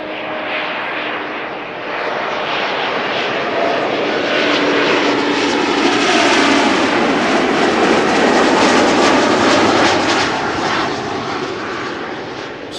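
A fixed-wing airliner arrives at Amsterdam Schiphol Airport, its engines a loud, close broadband roar that swells in within the first two seconds and holds steady, with no talk.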